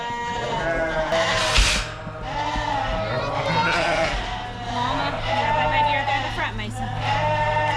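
Ewes bleat loudly and overlap nearby during lamb weaning on a farm, a crowded, continuous chorus of sheep calls with a person talking underneath.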